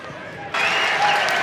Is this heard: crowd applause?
yes